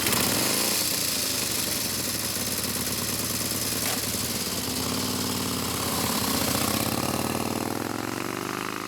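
A 1925 James Model 12 500cc V-twin sports motorcycle engine runs steadily throughout, a close, continuous mechanical drone with a faint rise in pitch toward the end and no talking.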